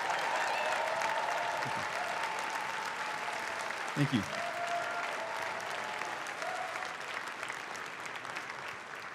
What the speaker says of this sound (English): Let's give them a collective round of applause,